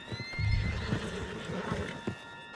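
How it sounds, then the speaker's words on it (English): Horse in Red Dead Redemption 2 neighs loudly up close while hooves clip-clop in an uneven rhythm, over a soft ambient background with no speech. "Put Strauss on the back of John's horse, and let's get out of here"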